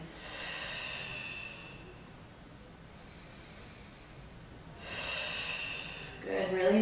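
Deep breaths during an ab exercise hold with the head resting heavy in the hands, two long airy exhalations a few seconds apart, close and fairly soft, with a brief rustle at the end.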